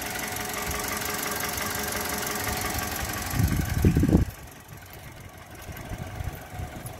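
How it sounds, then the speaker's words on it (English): A 2009 Toyota Yaris TR with a 1.3 dual VVT-i engine and auto clutch idles evenly at close range, with a brief louder rev midway before it settles back to a steady idle. "engine sounds perfect"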